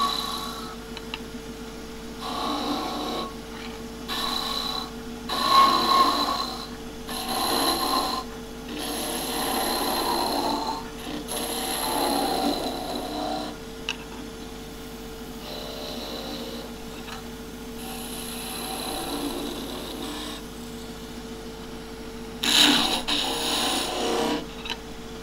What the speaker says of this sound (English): Long point down. Sliding peeling cut.